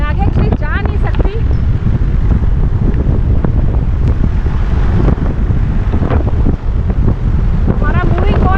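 Strong wind buffets a sailboat at sea, a constant loud roar of gusts battering the microphone while water splashes beneath, with a voice faintly audible in the background.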